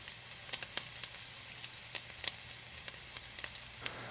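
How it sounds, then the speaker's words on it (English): Onions and cumin seeds sauté with a faint, steady sizzle, and small crackles and pops keep breaking through the hiss. A few light scrapes come from stirring. "Continue sauteing and stirring the onions."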